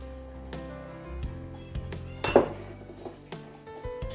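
Cucumber salad with garlic and vinegar is mixed in a bowl, with a run of close clinks and knocks of utensil against dish, some sharp and ringing, scattered irregularly over a quiet background.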